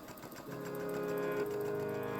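A sewing machine stitches a pocket to a garment front piece, right sides together, giving a steady whirring hum that starts softly and then runs at a constant, moderate level with no voices.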